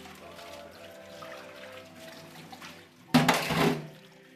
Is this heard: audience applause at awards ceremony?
no